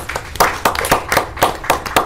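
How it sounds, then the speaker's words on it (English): Steady rhythmic clapping at a city council meeting, about a handful of sharp claps evenly spaced, close and fairly loud, from a small group rather than a crowd. "Yes, clap, clap, clap, please."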